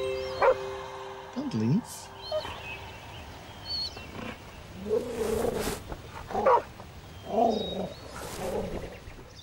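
Dog barking and yipping in the video game Nightmares from the Deep 3: Davy Jones, several sharp barks mixed with music and game effects, with a voice speaking briefly.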